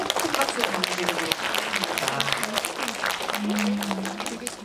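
Audience applause at a film preview screening in a Lotte Cinema auditorium, steady dense clapping throughout, with faint voices mixed in.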